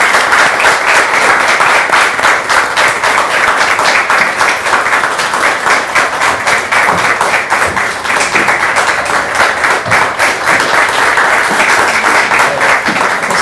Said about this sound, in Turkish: Hemen alkışlarınızla Bülent Korkmaz'ı da çağırıyoruz